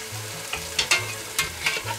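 Chicken con carne frying in a Dutch oven, a soft continuous sizzle with several scraping stirs and light knocks of a spoon against the pot, close but moderately quiet, with no voices.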